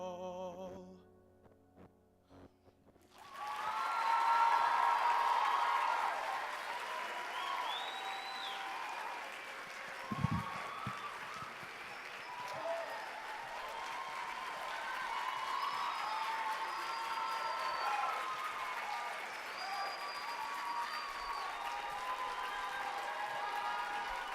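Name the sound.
crowd applause after a singing performance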